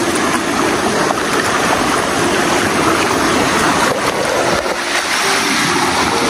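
Mountain river flowing steadily, a constant loud rush of water close by with no pauses and no voices.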